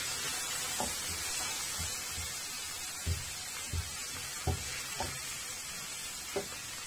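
Spices toasting in a hot pan give a steady, loud sizzle, broken by several close, distinct scrapes and knocks as they are stirred and turned, with no voices.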